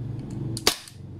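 A single sharp crack from a KJWorks CZ Shadow 2 airsoft pistol, a quick dry pop standing out clearly against quiet room tone.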